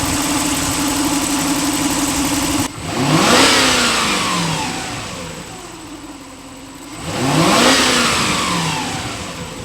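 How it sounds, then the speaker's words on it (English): A Lexus V8 engine idles, then revs up hard twice, each rev swelling loudly and falling back to a steady rumble, close by. "I put a cup of water on top of this engine and rev it."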